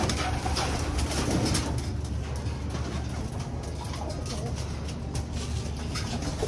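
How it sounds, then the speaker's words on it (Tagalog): Pet pigeons or doves cooing in a backyard coop in the late afternoon, soft repeated coos over steady low background noise. "Silipin natin mga ibon natin dito."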